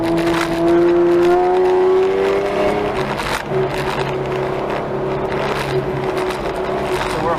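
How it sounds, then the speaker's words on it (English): Autocross car on a wet course, engine droning loud and close with tonal whine shifting through corners, tires hissing on standing water; a driver talks briefly. "So we're hydroplaning like crazy"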